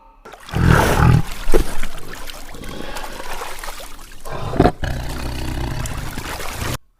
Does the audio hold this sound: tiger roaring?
yes